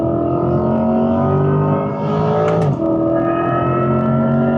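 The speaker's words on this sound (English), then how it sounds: "we're gonna definitely have to go launch the car" A Corvette E-Ray engine revs hard and roars at full throttle during a launch, loud and close, with a brief gear-change dip before the pitch climbs again.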